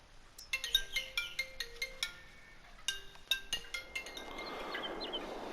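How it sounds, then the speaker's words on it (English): Phone ringtone from an incoming call, two bursts of a bright, rapid melodic chime pattern ringing at moderate loudness with a short gap between them, followed by a soft hiss. "I got a phone call halfway through"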